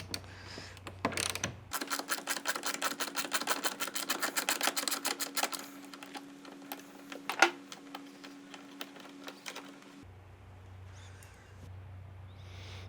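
A ratchet spins a 10mm bolt off a motorcycle rear fender beneath the tail light, giving a long fast run of close, sharp clicks that slows into scattered ticks and one louder clack of metal.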